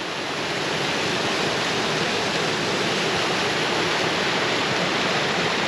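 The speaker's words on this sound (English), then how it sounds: "a lot of water flowing in there right now" A flooded creek rushes in a loud, dense, steady roar of water, close by and unbroken, with no voices.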